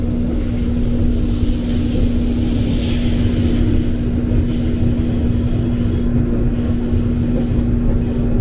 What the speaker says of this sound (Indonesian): ini ada KRL JRS 20575 komuteran tujuan Angke atau Kampung Bandan berikutnya.